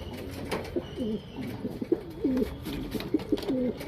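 Pigeons cooing in a loft of ready-to-fly birds, several soft rolling coos repeating in short phrases at close range over a low background hum.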